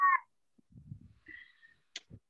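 A pet cat gives a short high meow at the start, followed by soft rustling, a brief squeak and a few small clicks and taps, all quiet and close in an indoor room.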